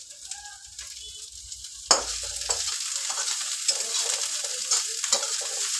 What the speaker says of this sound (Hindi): अभी हम पुदीना पत्ता और हरा मिर्च डालेंगे